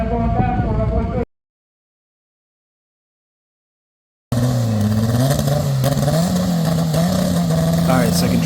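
A turbocharged Honda Civic tuned by JStuned roars under hard acceleration, its engine note climbing and wavering loudly up close, briefly cut by a gap of silence before the strained revving returns even louder.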